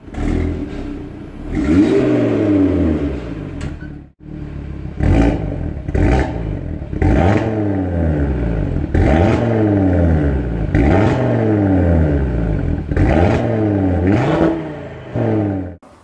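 An Audi TT RS with a 2.5 L five-cylinder engine, 400 hp and quattro drive, barking through its optional sport exhaust in a series of sharp, loud revs that rise and fall about every second, heard up close with no talking.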